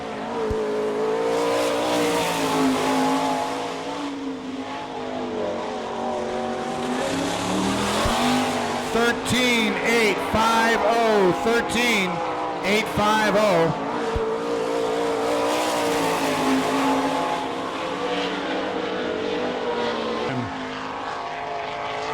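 Sprint cars of the All Star Circuit of Champions race around the speedway at the Bauman Memorial in Sarver, Pennsylvania, their engines roaring loud and continuous with rising and falling pitch as cars pass, while an announcer talks over the track noise.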